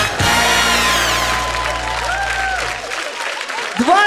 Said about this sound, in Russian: И эти аплодисменты вам!